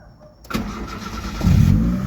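A Honda-swapped Daihatsu Charade engine cranks after a brief quiet, then catches at close range and settles into a loud, steady running note with no talking over it.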